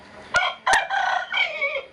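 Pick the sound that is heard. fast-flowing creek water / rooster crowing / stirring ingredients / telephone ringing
rooster crowing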